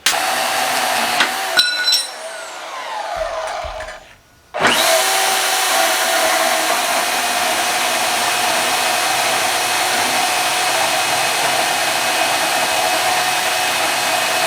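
A DeWalt Portaband portable band saw cuts metal stock in a blacksmith shop. A short, quieter stretch and a brief pause come first, then the saw runs loudly and steadily in one continuous, close cut.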